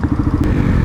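Motorcycles riding away, a loud low rumbling engine drone with rhythmic pulsing, close and steady throughout a brief moment.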